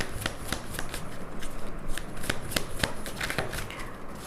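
Tarot cards riffled and shuffled by hand in a steady run of crisp, close flicking taps and papery slides, alone with no talking.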